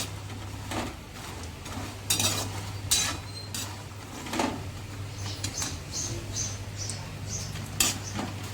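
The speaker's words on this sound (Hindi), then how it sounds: "और इसे अच्छे से हम चलाते हुए घी में भून लेंगे" Walnuts roasting in ghee in a pan over a medium flame, stirred with a spoon: scattered scraping and clinking strokes over a steady low hum, close and fairly quiet, with no talking.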